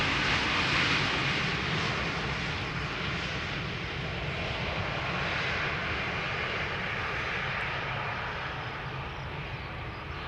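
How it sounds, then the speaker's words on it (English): A KLM airliner arriving from Paris at Amsterdam Schiphol Airport roars steadily with a broad, sustained engine rumble that fades slightly toward the end, heard from outdoors with no talking. "One of the many flights of KLM between Paris Charles de Gaulle and Amsterdam Schiphol Airport."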